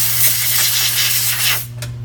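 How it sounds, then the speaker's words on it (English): Compressed air from a nozzle blows excess separator off dental casts during hinge articulator mounting, a steady close hiss running loud for about a second and a half, then cutting off with a brief final puff. "blow off the excess separator with your air nozzle"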